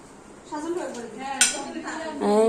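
Plates being set out at a family home, with ceramic dishes clinking and knocking a few times up close while people talk over the clatter.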